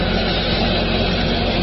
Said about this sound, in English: And then I realized it was a helicopter.